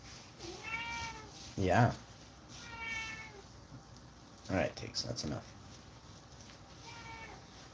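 A house cat meows in three drawn-out calls, spaced several seconds apart, while a person chats casually in between and over them at close range.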